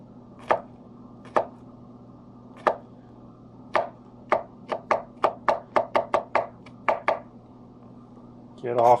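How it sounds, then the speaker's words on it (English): A knife chops and minces kimchi ingredients on a cutting board, sharp knocks at first spaced apart, then speeding into a quick run of close, crisp chops before a final scrape. "we can, you know, do some chopping action here"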